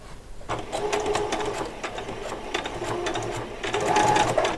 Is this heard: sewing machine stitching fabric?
yes